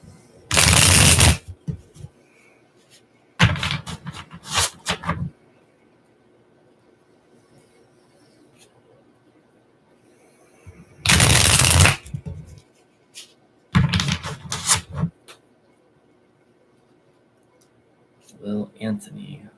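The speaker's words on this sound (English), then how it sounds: "as I'm shuffling the cards" Tarot cards being shuffled in four loud, close bursts of riffling and flicking, each lasting one to two seconds, with quiet pauses between and a shorter, softer shuffle at the end.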